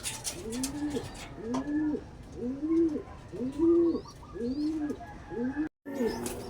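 Repeated soft cooing calls of a dove or pigeon, about six evenly spaced coos, close by, with faint chirps and rustling behind.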